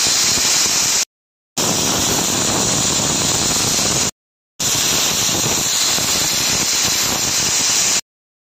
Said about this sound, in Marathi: ह्याचं झाकण लावून घेते आणि कुकरच्या 3 शिट्ट्या करून घेते